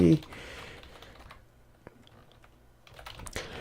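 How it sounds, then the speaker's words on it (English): Keys tapped on a computer keyboard while setting up server monitoring software, a few light scattered clicks close by after a brief spoken word, then quiet. "So I'm going to type in chip"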